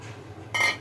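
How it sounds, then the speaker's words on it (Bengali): Water is poured into a pan of cooking spinach, a sudden loud hissing splash that starts partway through after quiet kitchen background and lasts briefly. "এর মধ্যে আমি পরিমাণ মতো এখন জল দিয়ে দেব।"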